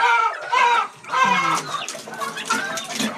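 Chicks, with the males of the Texas breed, cluck and peep up close in a backyard coop, in a busy run of overlapping calls with short gaps.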